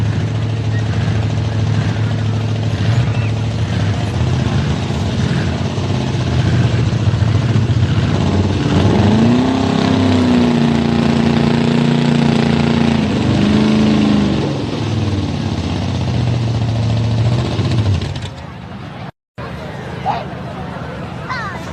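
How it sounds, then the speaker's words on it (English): A drag racing vehicle's V8 engine sputters and misfires at a spring nationals event, running rough rather than on all eight cylinders. It produces a loud, steady drone with wavering pitch, heard over crowd babble and an announcer's commentary. "Doesn't sound like it's pulling on all 8 cylinders."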